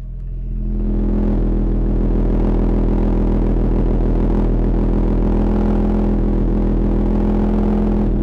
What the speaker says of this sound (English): let's start this puppy up and hear that exhaust